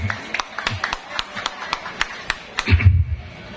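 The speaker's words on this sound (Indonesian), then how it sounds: "Ini harus tepuk tangan nih" Scattered claps ring out one by one at an outdoor gathering in a Madura village, spaced slowly and irregularly, then a brief low rumble near the end.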